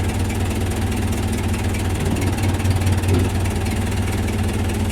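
An old Case 580B backhoe's diesel engine idles close by, a loud, steady low rumble with an even mechanical knock and a slight rise in load partway through.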